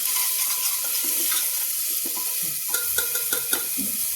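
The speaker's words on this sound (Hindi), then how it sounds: "आलू भी हम प्याज के साथ ही भून लेते हैं" Potatoes are frying with onions in a pan for an aloo matar dish, turning crisp. A steady close sizzle is heard alone, with a cluster of spatula scrapes and clinks near the end.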